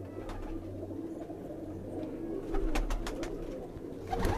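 Sialkoti female pigeons and a paired male cooing in a home loft, repeated soft low coos with a few brief calls, near and steady throughout.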